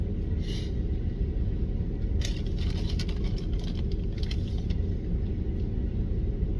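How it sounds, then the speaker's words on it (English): A car engine idles in a steady, continuous low rumble throughout, with faint rattling ticks layered on top and no voices. "we need to run this engine a little bit anyway with that whole battery thing."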